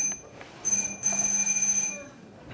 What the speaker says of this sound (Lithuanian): Dabar skambutis veikia, aš girdžiu